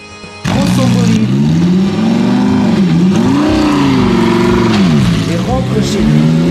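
A fast car pulls away after a bus is parked, the engine revving hard and loud with rising and falling pitch as it accelerates, sounding close and dominant throughout after a brief quieter start.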